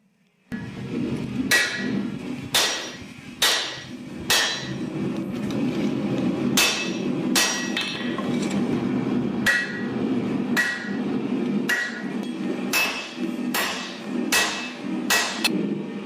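Repeated heavy hammer blows forging a large San-Mai damascus kukri blade, loud metallic strikes landing in an irregular rhythm over a steady background roar, close up.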